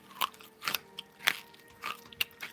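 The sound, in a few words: biting crunchy candy cane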